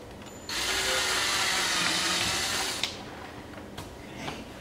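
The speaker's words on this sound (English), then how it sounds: "Just use a good drill bit, it'll be fine." A power drill runs in one continuous high-pitched burst of about two seconds, close and loud, drilling into a composite rear diffuser on a C7 Corvette, then stops, followed by a few faint knocks.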